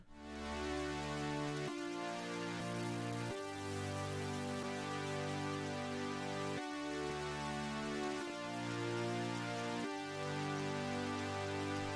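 A sustained synth pad with RC20 wobble, light distortion, filtering and analog-style compression plays chord changes every couple of seconds, full and continuous with no talking.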